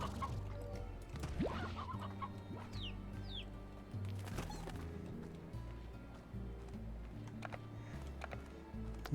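Chickens cluck and a rooster-like call rises in Slime Rancher, the fowl sounds scattered across steady layered game music and ambient tones, with a couple of brief fluttering bursts.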